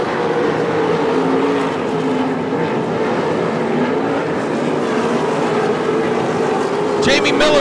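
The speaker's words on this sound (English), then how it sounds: "Matt Foose can see your leader down the backstretch as they race to the white flag." 305 sprint cars race at Attica Raceway Park, a dense continuous roar of engines filling the whole stretch, with a race announcer talking over the noise throughout.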